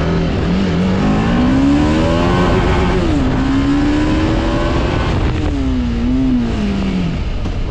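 A TVS Apache RR310 motorcycle pulls hard in first gear, its engine note climbing and falling through several revs, loud and close, heard alone without talk.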